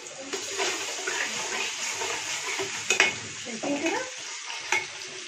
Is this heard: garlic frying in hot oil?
yes